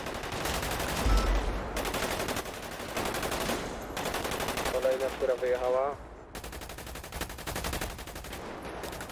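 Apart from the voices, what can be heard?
gunfire in a video game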